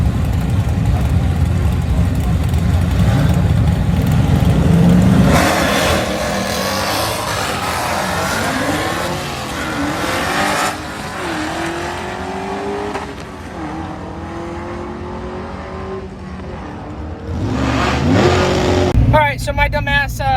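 An LSA-swapped IROC-Z Camaro at a drag strip: a loud engine roars hard at first, then shifts through rising and falling revs and settles toward idle, with a voice talking over the noise.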